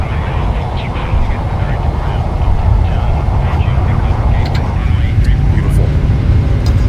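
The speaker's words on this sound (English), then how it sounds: "Takeoff power is set." Airliner engines run at takeoff power in the ATC4 video game, a loud, steady roar that holds throughout and builds slightly, with faint higher tones over the top.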